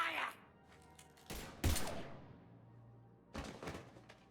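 Gunfire in Mass Effect 3: a few sharp bursts of shots with quiet gaps between them, and faint background sounds in the pauses.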